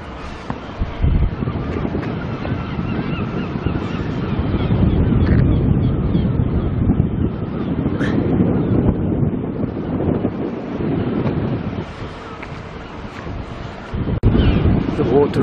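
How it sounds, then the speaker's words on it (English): River water rushing out under a bridge at Berwick upon Tweed on a windy day, a broad steady wash of flowing water with gusts of wind buffeting the microphone, swelling and easing over time. "The water rushing out today."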